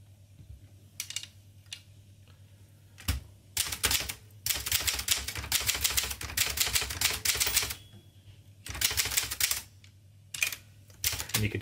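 Typing on a 1958 Adler Special manual typewriter: quick bursts of sharp key strikes with short pauses between them, close and crisp, with no voices.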